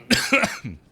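A single close, throaty cough breaks out in two quick bursts, followed by a softer exhale.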